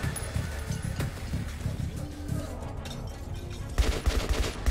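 Gunfire from a new gun in Metro 2033 Redux, rapid bursts of shots over a busy game soundscape with a heavier cluster of loud blasts near the end and some talk mixed in.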